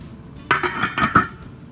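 A lid clinks and rattles onto a cooking pot of turkey stew in a few quick metallic taps, close and fairly quiet, then the sound settles.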